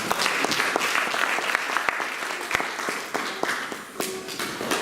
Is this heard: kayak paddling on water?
no